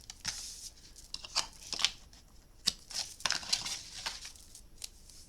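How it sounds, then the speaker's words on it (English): Sticky tape pulled and pressed across paper for an art memory book, giving a run of light crackling and tearing bursts up close, quiet and irregular, with no talk. "I'll put some tape across here firstly."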